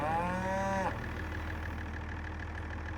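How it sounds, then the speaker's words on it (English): A Highland cow lets out a single drawn-out moo that lasts under a second, fairly close, over a steady low hum of engine noise that keeps going afterward. "Everybody, I think that's a Highland cow."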